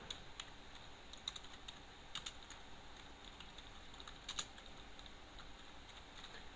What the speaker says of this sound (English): So I just typed down create partition primary.